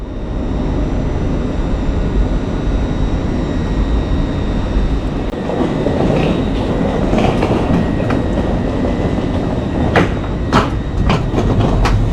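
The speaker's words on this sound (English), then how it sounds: "This service, as with the vast majority of LNER's services, is operated by one of their Azuma trains." An LNER Azuma intercity train runs at speed, giving a steady, loud rumble with rail clatter and a few sharp clicks over the final seconds, with no one speaking.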